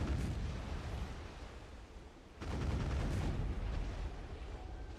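Booming explosions from a video game, dense and continuous with a heavy low rumble, dipping briefly midway before a louder burst of blasts resumes.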